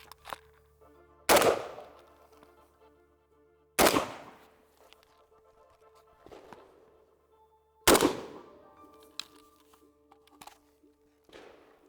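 Polish AK rifles in 7.62x39 fire single gunshots at a shooting range, sharp loud reports spaced a few seconds apart with ringing decays, plus a fainter shot and some handling clatter between them.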